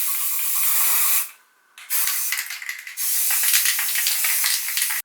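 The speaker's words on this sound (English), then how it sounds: "I'm just gonna spray paint them once more" An aerosol can sprays paint onto cardboard in steady, close hissing bursts, with a brief pause and short stuttering taps before the spray resumes.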